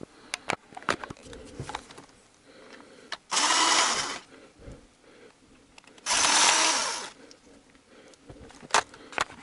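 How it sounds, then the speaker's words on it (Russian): Cordless screwdriver unscrewing oily bolts from a VAZ 2111 engine: two loud, close whirring runs of about a second each, separated by clanks and handling noise of tools on metal. "теперь можно воспользоваться шуруповертом"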